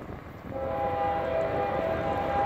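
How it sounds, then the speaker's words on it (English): An eastbound CSX freight train rumbles past nearby, a steady heavy roar with a sustained horn-like tone riding over it throughout. "We've got a CSX eastbound train coming."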